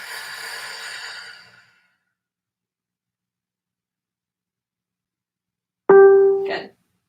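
A long forceful breath out during a breathing exercise fades over about a second and a half, then after a long silence a short, sharp breath follows, close and clear with no talk.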